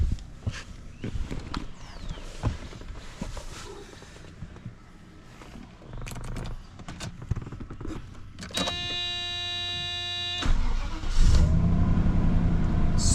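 A cold 1989 Mercedes-Benz 420SEL engine is cranked near the end after a stretch of quiet background noise and a brief electronic tone, then catches and settles into a steady, loud idle.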